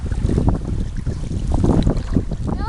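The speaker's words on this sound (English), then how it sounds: "we're just leaving Beaver House Lake, which is really windy right now" Strong wind gusts buffet a canoe on a lake in Quetico Provincial Park, a steady low roar with heavy microphone buffeting throughout, no talking.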